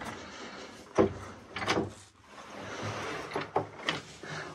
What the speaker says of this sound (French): Je vais refermer la porte.